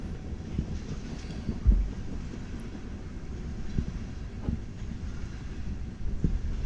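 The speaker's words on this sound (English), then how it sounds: "I hear a train." Distant train rumbling by outdoors during a winter storm near Rochelle, Illinois, a faint low steady roar mixed with wind noise buffeting the microphone.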